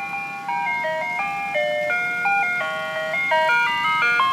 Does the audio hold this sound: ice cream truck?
yes